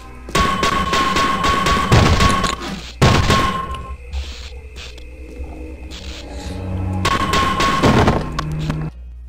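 Assault rifle fire in the Black Ops video game, loud sustained automatic bursts in two long volleys, a pause filled with quieter game effects and rumble, then another burst near the end.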